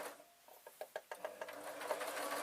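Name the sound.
sewing machine stitching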